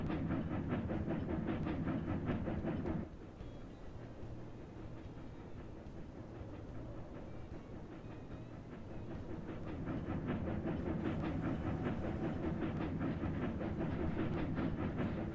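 A train runs steadily in the Railroad Corporation 2 video game, a continuous rhythmic clatter of wheels on rails with a brief dip in loudness before building back up, heard alone without talk.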